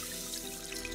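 Cold water streams into a soup pot holding flour and paprika for sour egg soup, a steady close rushing pour that runs the full second without pause.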